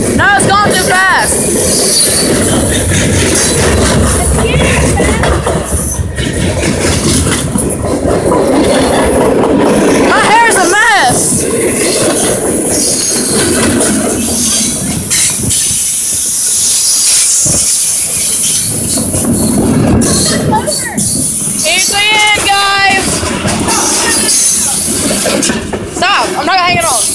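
A train rushes past at close range, a loud, continuous roar of wheels and rail noise with hissing and shrill squeals, while excited people shout and talk over it throughout.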